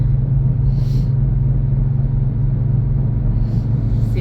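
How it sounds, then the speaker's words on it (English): Steady low rumble and road drone inside a 2009 Chevy Impala while driving, with a suspected wheel bearing noise as a continuous hum throughout. "It does sound like there's a wheel bearing noise."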